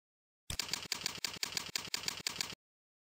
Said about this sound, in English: Type an IP address.